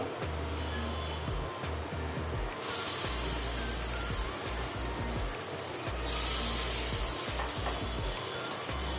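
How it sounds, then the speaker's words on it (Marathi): Appe batter, made with poha and moong dal, sizzles steadily in oil in an appe pan on a low gas flame as a second batch goes in, with soft stirring and scraping clinks over a constant frying hiss. "आता मी पुन्हा दुसऱ्या तळवायला टाकते"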